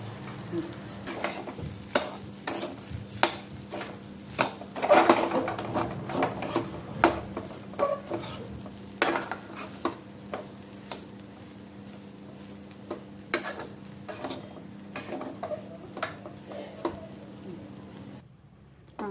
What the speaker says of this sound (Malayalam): ഇച്ചിരി എണ്ണ കൂടി ഒഴിച്ചു കൊടുത്തിട്ട് നമുക്കൊന്നും കൂടി നന്നായിട്ട് ഇളക്കി കൊടുക്കാം